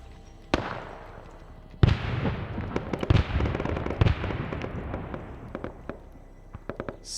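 Grenades exploding in the military video game Arma, several sharp booms spaced apart, each followed by a rumbling tail, with lighter crackles and pops scattered between them.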